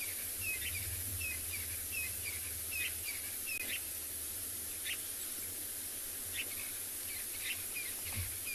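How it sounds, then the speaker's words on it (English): Birds call loudly during an afternoon safari in South Africa, repeated chirping notes scattered across the clip over a constant hissing insect-like background drone and a low rumble. "you asking why are these birds so loud at this time of the"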